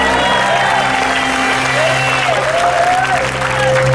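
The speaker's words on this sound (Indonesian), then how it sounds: "Tepuk tangan untuk saya dong" Studio audience applause on an Indonesian TV game show, loud and continuous crowd clapping blended with music and a gliding tone throughout.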